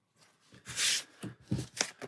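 Playing cards for the Arkham Horror card game being shuffled, a few quick riffling bursts and soft slaps close by, alone with no talk.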